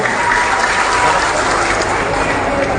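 A crowd at an Anies presidential campaign rally in Jambi claps for Pak Syarif, loud, dense and steady applause that fills the whole span without a break.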